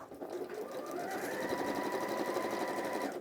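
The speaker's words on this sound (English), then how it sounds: "again sew along those raw edges" A sewing machine stitches steadily along raw fabric edges, its fast even motor hum running continuously at close range, with no talking.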